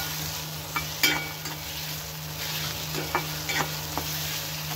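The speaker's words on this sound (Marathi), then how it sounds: "भाज्या व्यवस्थित परतून घ्यायचे।" Chopped onion, capsicum, tomato and carrot sautéing together in a pan, with a continuous sizzle broken by a few scraping stirs of a spatula, close and fairly loud, with no talking.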